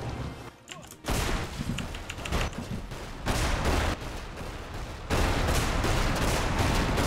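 Rapid gunfire in the Magicka game, dense continuous volleys of shots at moderate level, building louder in sections with no clear gaps.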